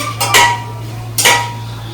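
Sliced onions drop straight into a hot pan with fennel seeds for a village-style chicken biryani, making two short clattering bursts close by over a steady low kitchen hum, with no talking.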